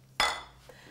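A single sharp clink of a utensil against a Cuisinart Fruit Scoop bowl while fresh fruit dessert is scooped out, followed by a short ringing decay and a faint tap.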